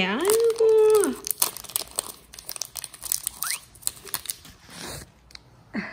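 A dog chew's plastic wrapper crinkles and rustles in bursts as a puppy struggles with it. A high, whining voice opens the sequence, followed by scattered crackling and tearing sounds up close.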